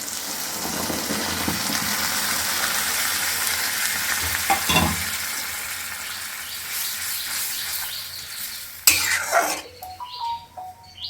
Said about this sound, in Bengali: সর্ষে বেটে ছেঁকে রেখেছি সেটা দিয়ে দিচ্ছি